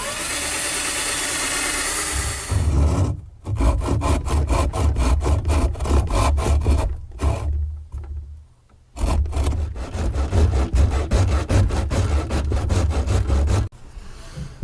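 A wooden dowel is hand-sawn with a steady, rhythmic rasping of repeated strokes under a constant low hum, with two brief pauses before the sawing resumes.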